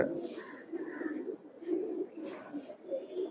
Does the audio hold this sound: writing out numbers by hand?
no